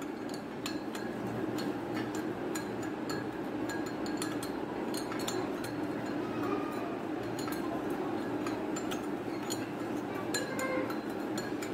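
A spoon stirs sugar into a cup of herbal tea and taps the cup in quick, repeated light clinks, close by over a steady low background hum.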